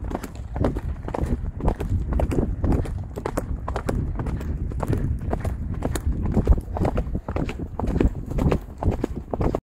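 Horses galloping on a riding safari among giraffes, some shod and some unshod: a dense, continuous run of close hoofbeats drums steadily throughout, with no talking.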